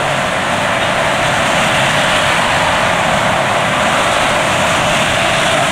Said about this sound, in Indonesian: rasanya suara mesin masih bisa dibilang halus ini ya